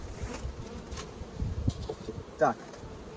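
Honeybees buzz around an opened hive while two colonies are combined, a close, fluttering drone with brief louder passes of single bees near the microphone.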